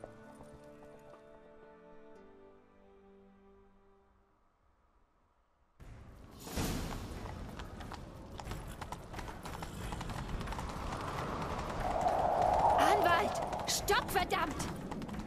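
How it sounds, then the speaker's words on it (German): Horse hooves clip-clop at a gallop in The Witcher 3, building after a quiet musical opening into a steady rhythmic pounding with in-game clatter, loud and close. "Nimm dir ein Pferd, wir reiten ihm nach."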